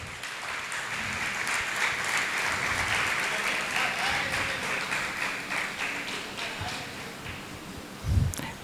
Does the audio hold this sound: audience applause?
yes